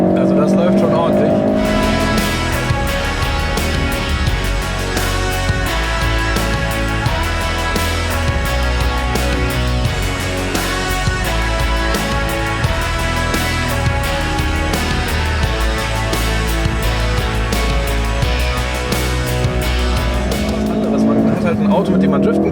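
A 2016 Ford Focus RS with 350 PS is driven hard on a race track, its engine roaring continuously and loudly up close with shifting pitch and occasional tire squeal, while someone talks over it.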